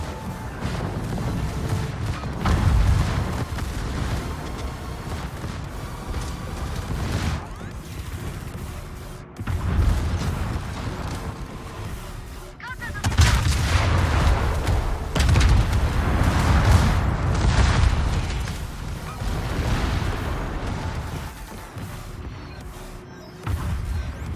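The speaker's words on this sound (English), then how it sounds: "And they're firing at the south battery that's right next to me there." Heavy naval gunfire in a warship battle game, with repeated booming salvos and crashing impacts rolling on and off over a continuous loud battle din, no talking.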